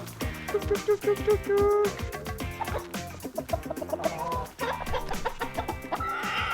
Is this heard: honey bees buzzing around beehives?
no